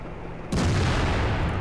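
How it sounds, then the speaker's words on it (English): A single heavy cannon shot from the Waffenträger auf Pz. IV tank destroyer in a video game booms suddenly after a brief quiet lead-in, its loud rumble sustaining to the end. "I took a shot and missed."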